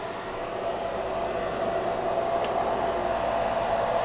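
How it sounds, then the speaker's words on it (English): A hair dryer runs off a FlashFish 540Wh 600W portable power station, giving a steady, loud, unbroken broadband whoosh with a faint motor whine throughout, alone with no talk. "Dryer still running."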